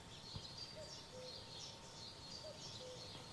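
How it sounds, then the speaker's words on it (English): Birds call outdoors on a multiplayer battlefield map, faint repeated chirps and short whistled notes over a quiet ambient background, no talking. "yes, the birds. They're always so loud."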